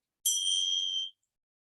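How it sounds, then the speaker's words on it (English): A meditation bell closing a yoga nidra session gives a single bright, clear ding that rings for about a second and then cuts off into silence. "the sound of the bell brings us to the end of our practice today"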